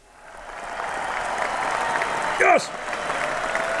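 Applause swells for Al's Italian Beef on a sports talk show, building from quiet into a moderate steady patter while a voice shouts an excited exclamation partway through.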